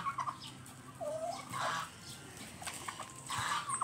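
A goose and a turkey fighting give off short clucks and squawks in irregular bursts, moderately close, with scuffling noise between the calls.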